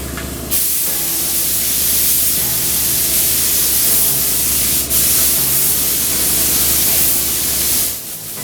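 A paint sprayer hisses in a steady, loud, continuous burst while coating a V8 Crossfire project car, with one brief break midway before the spray cuts off near the end.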